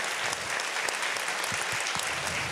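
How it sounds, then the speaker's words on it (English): Dense, steady applause from a conference audience at an event's closing session, honoring the speakers; loud, close, continuous clapping throughout without pause. "please rise and your big applause for our speakers"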